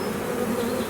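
A honey bee swarm buzzes steadily around a skep, a dense continuous hum close by with no talk.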